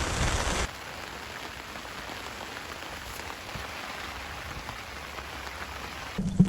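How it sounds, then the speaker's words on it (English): Hard rain pours down at Ridgevale Beach on Cape Cod, a steady, dense hiss of drops hitting the surface that holds evenly throughout, with a couple of louder bursts at the very start and end. "It's raining. This is a hard rain."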